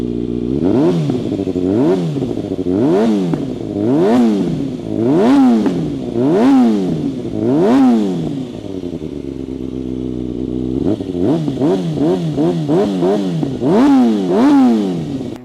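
A Kawasaki ZX-6R sport motorcycle engine revs repeatedly, each blip rising and falling in pitch, loud and close, with a brief idle lull before another burst of quick revs.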